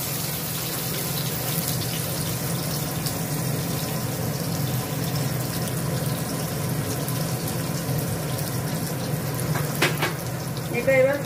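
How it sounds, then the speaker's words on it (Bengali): Mango pieces fry in oil in a home kitchen, giving a steady, moderate sizzle and hiss that runs throughout, with a brief louder stir or clatter near the end. "এটা এবার ভালো করে ভেজে নেবো"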